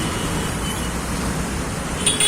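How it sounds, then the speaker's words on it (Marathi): Steady road traffic at a signalized junction, Matka Chowk in Ambarnath, with continuous broadband engine and tyre rumble from vehicles passing nearby and a brief higher hiss near the end. "हे बघा इथं अनेक गाड्या येतात जातात"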